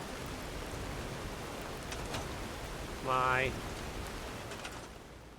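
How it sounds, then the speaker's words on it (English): Steady rain falls outside a garage workshop, a constant hiss of drops that runs the whole time while a voice briefly speaks over it. "Want the rain to stop."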